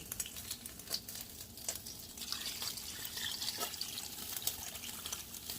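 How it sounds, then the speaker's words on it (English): Water pours steadily into a pot over potatoes, a continuous faint splashing and trickling with light crinkly noise, no speech. "I'm going to add more water to cover the potatoes."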